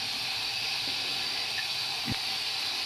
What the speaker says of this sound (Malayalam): ഇതിനകത്തോട്ട് ഈ വെള്ളം വീഴും, വെള്ളം ബക്കറ്റിലോട്ട് വീഴും